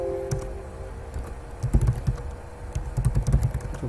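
Typing on a computer keyboard while entering data in SPSS, bursts of quick close key clicks separated by short pauses, alone without talk.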